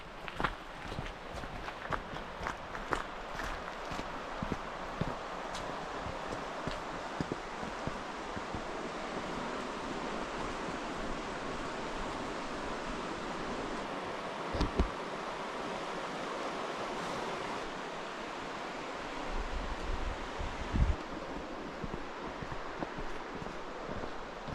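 Waterfalls on Oregon's Trail of Ten Falls send up a constant broad rushing roar, with wind buffeting the microphone and occasional footsteps and knocks from hikers nearby.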